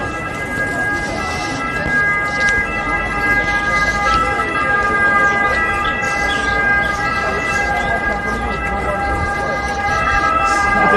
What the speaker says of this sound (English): I get to hear those sirens.